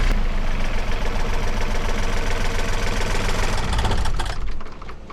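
A sailboat's diesel engine runs after maintenance with a loud, steady low rumble and rapid knocking chug, close by, before the note drops away and fades near the end.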